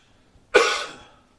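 A single short, harsh cough during chest physiotherapy bursts out close by, then fades quickly into silence.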